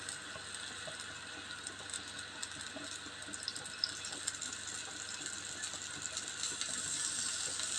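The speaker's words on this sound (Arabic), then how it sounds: "نزيد شويه ديال الماء" A little water is poured into a chicken tagine with lemon and crushed olives, giving a soft, steady splash and hiss close by with faint clinks of the pot.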